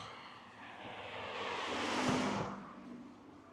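A car sweeps past outdoors, its broadband road and engine noise swelling to a peak and then fading away over a few seconds, with no voices present.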